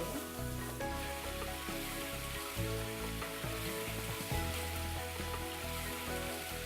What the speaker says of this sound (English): this is the point where we're braising up all our onions and our sugar